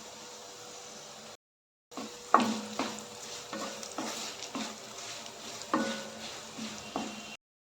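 Chilli, turmeric and coriander powders are stirred into frying tuna pickle, soft sizzling under a rhythmic series of scraping stirs against the pan, fairly quiet and close, with a brief silent gap early on.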